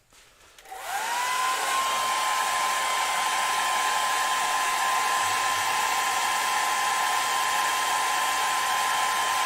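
A hair dryer blows steadily on spalted beech finished with glitter lacquer, spinning up within the first second and then holding a loud, even whoosh with a constant motor whine, no voices present.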